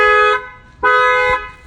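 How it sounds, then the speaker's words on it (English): Factory car alarm of a 2019 Infiniti Q50 sounding after the car is struck, two loud, close, steady horn-like tones, each about half a second long, separated by a short gap. "their factory alarm will go off"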